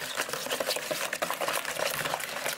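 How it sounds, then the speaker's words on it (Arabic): A quick soft stir of yeast in a bowl while mixing dough for crunchy awama, a few seconds of faint swishing and light scraping, close and quiet with no talk. "ندور الخميرة"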